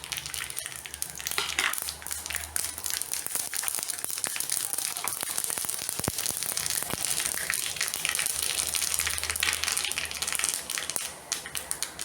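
Mustard seeds crackle and pop in hot coconut oil, a dense run of sharp sizzling snaps that goes on steadily for several seconds and is heard close up.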